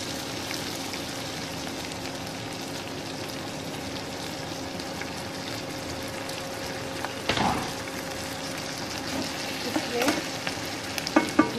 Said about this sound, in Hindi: और इसे अच्छी तरह फिर भून लेंगे।